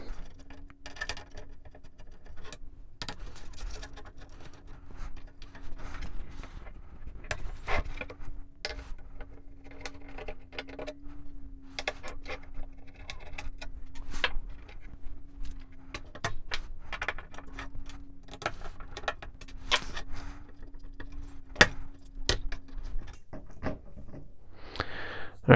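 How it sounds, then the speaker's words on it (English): Screws being removed from motherboard heat sinks, with scattered small metallic clicks, ticks and scrapes at an irregular pace over a faint steady hum, close up and fairly quiet. "So we'll go ahead and start removing screws."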